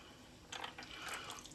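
Melted margarine poured over a turkey before roasting, a brief soft liquid splashing and trickling that rises midway and continues faintly against a quiet kitchen background.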